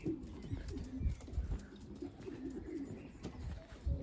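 Young racing pigeons coo softly in low, throaty repeated calls, fairly close but quiet, with a light rustle of movement around them.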